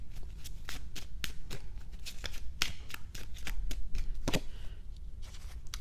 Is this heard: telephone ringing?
no